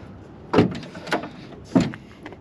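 A pickup truck's multi-flex tailgate is worked close by, giving three distinct clunks and latch thuds at irregular intervals with a few lighter clicks in between.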